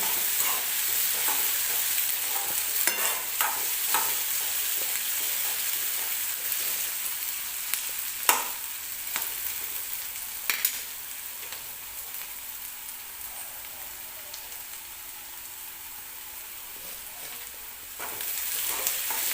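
Chopped onion frying in a pan for onion-tomato chutney, a long steady sizzle broken by occasional scraping stirs and clicks, near and unaccompanied by speech.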